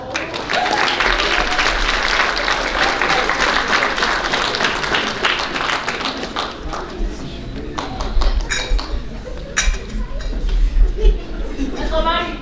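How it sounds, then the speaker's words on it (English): A banquet crowd at a school athletic awards night applauds the track MVP, a long dense round of clapping that thins into scattered claps, with dishes and cutlery clinking and voices murmuring underneath. "Let's give this varsity boys track team one more round of applause"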